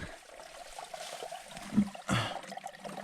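Stream water trickling into a liter bottle on a hike, a soft steady dribble with a brief gurgling splash near the end, close and quiet with no talk.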